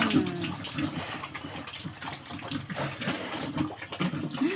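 Water splashes and gushes over pet pigs as they are washed while feeding, a close, continuous watery wash with uneven surges and no speech.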